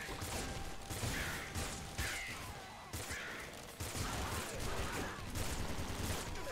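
Explosive crossbow fire in Nuclear Throne, repeated mechanical snaps and blasts in a dense game soundscape that stays loud and busy throughout.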